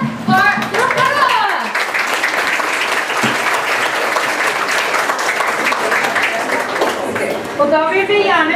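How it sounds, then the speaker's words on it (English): A parents' program audience breaks into warm applause, a full, sustained roar of clapping with voices speaking over its start and end. "So please give a warm round of applause, left med handen, for Johnathan!"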